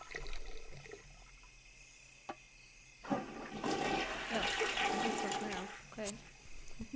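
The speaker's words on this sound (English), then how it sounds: "Go on the toilet, take a shower, and then flush." A toilet flushes in The Sims video game, a loud rushing swirl of water that builds after a short quiet stretch and drains off near the end, with faint game ambience around it.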